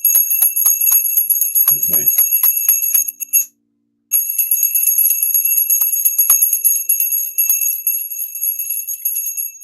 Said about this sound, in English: The bell is ready, mate.